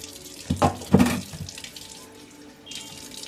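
A household tap runs into a sink with a steady, close stream and a few louder splashing bursts near the start, then settles into a softer, continuous flow.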